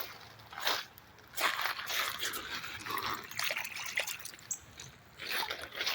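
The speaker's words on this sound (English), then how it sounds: "Let me rinse it off." A heavy quartz rock is rinsed in creek water in an Alabama streambed, with soft splashing and trickling in several bursts, some gritty crunching, and quiet gaps between them.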